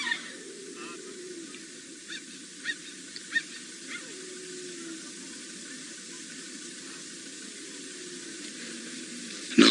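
Cheetahs call to each other with soft chirping and twittering that rises and falls repeatedly over a steady hiss, with a few brief sharper chirps standing out.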